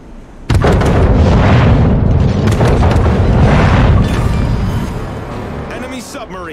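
In a naval combat video game, a submarine is destroyed by a sudden loud explosion, a heavy boom that rumbles for several seconds before dying away.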